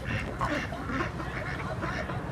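Farm ducks kept in a coop quack repeatedly in a steady, close chorus of overlapping nasal calls that continue without pause.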